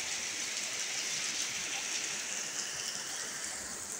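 Steady rain hisses down evenly, a soft continuous patter with no other sounds.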